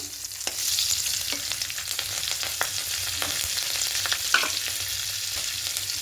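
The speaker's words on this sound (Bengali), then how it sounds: "এবার এই তেলের মধ্যে ফোড়নে দেব কালো জিরা আর 3টে কাঁচা চেরা কাঁচা লঙ্কা দেব" Black cumin and three slit green chillies frying in hot oil, a steady close sizzle with scattered crackling pops and a faint stir, no voices.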